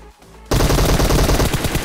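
Rapid automatic gunfire in PUBG Mobile cuts in abruptly after a quiet moment: a loud, dense stream of closely spaced shots that continues without pause to the end.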